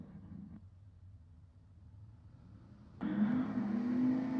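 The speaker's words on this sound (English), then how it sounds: "Foot brake final here with a pair of Keatons on the line and a pair of Camaros." Drag racing Camaros idle with a low rumble at the start line of a foot brake final, then an engine suddenly revs up loud and close.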